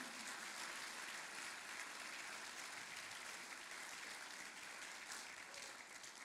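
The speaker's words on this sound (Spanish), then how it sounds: "Dele ahí un aplauso al Señor." A church congregation applauds in a steady, dense wash of clapping that holds at an even level for several seconds, with no speech over it.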